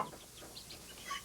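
A hen clucks softly in a few short, soft, closely spaced calls, heard alone with no talking.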